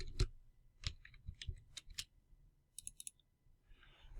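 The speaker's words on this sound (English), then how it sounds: "I'll just type in VLookUp there" Light keyboard typing while entering an Excel function, a sparse run of close, quiet clicks and taps with uneven gaps, alone in a quiet room.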